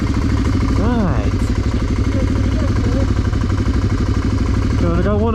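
BMW 650GS and Tuareg 660 motorcycles run off-road after a storm, their engines droning and revving loudly and steadily throughout, with rising rev sweeps near the start and end and voices mixed in.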